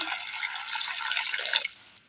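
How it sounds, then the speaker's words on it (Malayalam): Water is poured into a pan holding jackfruit seeds, a short close splashing trickle that runs for about a second and a half and then stops abruptly, with no talk. "ചട്ടിയിലേക്ക് നമുക്ക് ചക്കക്കുരു ഇട്ട് കൊടുത്ത് അതിലേക്ക് ഒരല്പം വെള്ളം കൂടി ഒഴിച്ചു കൊടുക്കാം."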